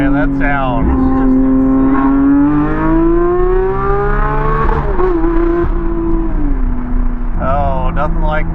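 A straight-piped Porsche GT3 RS engine revs loud and close to about 9,000 RPM, its pitch climbing and holding at a high wail before dropping, with short blips at the start and end.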